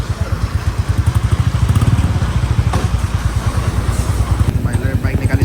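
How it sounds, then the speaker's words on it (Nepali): A new Royal Enfield motorcycle runs close by with a steady, thumping low engine pulse that carries through the whole stretch, while people talk over it. "भाइले बाइक निकालिसकेको छ अब हामी निस्किने यहाँबाट"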